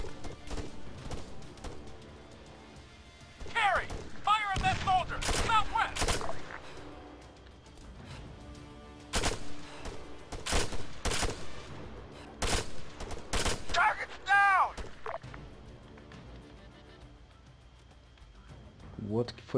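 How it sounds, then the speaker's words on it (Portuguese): Bursts of rapid gunfire and sharp single shots, with tracer fire and a grenade, from the video game Arma 3 during a base attack, separated by quieter stretches, with someone talking between them. "Olha os tiros traçando"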